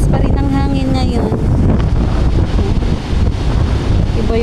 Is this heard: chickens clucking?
no